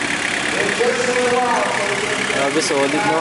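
A Toyota Tamaraw FX engine idles with a steady rumble beneath a voice talking in the paddock; the running engine stays constant and fairly loud throughout.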